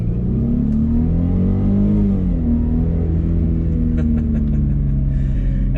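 A Mercedes-Benz C300 W204 sedan accelerates with a steady, muted engine drone and rising mid-range hum, heard from inside the car throughout, with light clicks near the end.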